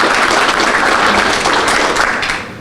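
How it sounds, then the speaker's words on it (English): An audience applauds at a ribbon cutting ceremony for a county police department's new facility, with loud, dense clapping that holds steady and then fades slightly toward the end. "We can give him a round of applause."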